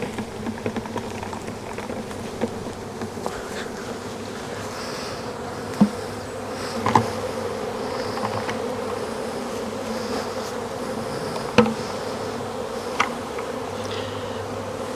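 A honeybee swarm in an apiary hums with a dense, steady buzz that carries on without a break, close and fairly loud, with no one speaking.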